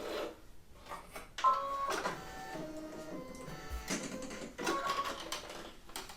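A Brother Innovis V5LE embroidery machine stitches an in-the-hoop coaster, giving a moderately quiet, busy mechanical whir and tapping with shifting tonal hums and short bursts of activity, alone without speech.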